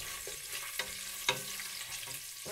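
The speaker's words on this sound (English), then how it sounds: "We're just frying it up." Quiet, steady sizzle of garlic sautéing in hot oil, with a few soft clinks of a utensil against the pan.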